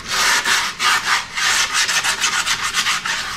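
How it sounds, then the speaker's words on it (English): Sanding block or paper rubbed along the edges of skateboard grip tape on a deck, a close, steady series of rasping strokes in quick rhythm with no talk. "Give her a good old sand down. Along the edges, like I always do."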